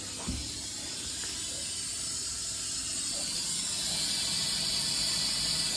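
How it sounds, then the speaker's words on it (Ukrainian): Steam feed on a Drevos Simeina 2.0 smokehouse used for smoking pork belly hisses steadily, a broad continuous rush that grows slightly louder over several seconds. "15 секунд гріється, 15 секунд йде подача пари."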